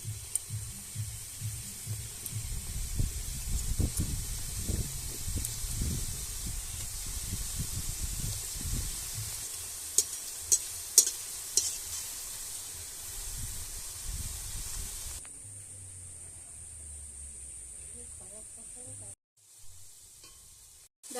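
Gulab jamun dough balls fry in hot oil with a faint, steady sizzle and a few small clicks, then the bubbling drops away abruptly near the end.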